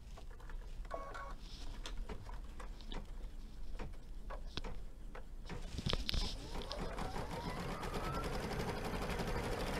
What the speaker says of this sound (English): now what we're gonna do is we're just going to stitch out the body of our flamingo